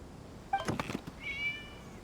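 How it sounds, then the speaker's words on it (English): A cat in the video game Genshin Impact gives a short, fairly close meow, followed by a brief higher chirping call, over a quiet background with no talk. "It was just a cat."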